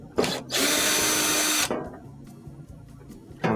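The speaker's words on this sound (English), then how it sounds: "the next 2 screws we're going to remove is 2 screws that actually secure the control panel in place" Cordless power drill backing number 2 Phillips screws out of a Whirlpool washer control panel: a short whirr, then a longer steady buzzing run of about a second, and another burst starting near the end, close and clear.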